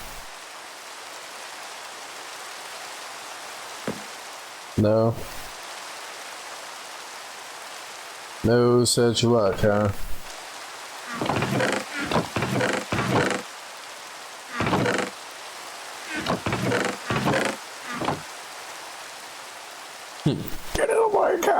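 Continuous rain in the Minecraft video game hisses evenly throughout as someone talks on and off over it, with a few sharp game noises breaking in.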